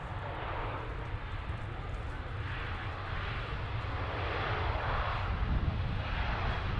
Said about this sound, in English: Just a standard A321 this time